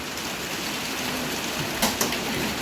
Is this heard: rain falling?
yes